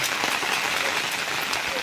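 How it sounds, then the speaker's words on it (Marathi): Steady, dense hiss of heavy rain pouring down, continuous and fairly loud throughout with no pauses. "सध्या जोरदार पाऊस चालू आहे"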